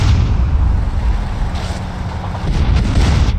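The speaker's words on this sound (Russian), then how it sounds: "Ладно, это плановые выбухи." Deep rumbling explosions in a Grand Theft Auto video game roll continuously, with a few sharper bursts near the end, loud and dense with no voices.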